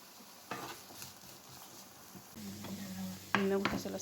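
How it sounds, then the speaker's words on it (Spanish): Onion, pepper, chistorra and garlic fry quietly in a pan, with a soft sizzle and a few scraping stirs that grow louder toward the end. "la cebolla, el pimiento, la chistorra, el ajo, cortarlos para sofreírlos un poco en el sartén"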